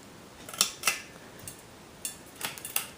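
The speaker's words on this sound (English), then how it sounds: "You can probably tell by the pole chains clacking on the globe there." Pull chains on a Canarm Paragon ceiling fan knock against the glass globe as the fan wobbles, making sharp, irregular little clacks, some in quick pairs, over a faint steady background.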